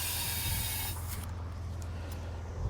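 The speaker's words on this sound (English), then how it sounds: "now we're going to put some air in there, just enough so we can test it all out." Air hisses into an Air Lift LoadLifter 7500 XL air helper spring for about a second, loud and steady, then cuts off, leaving a low hum.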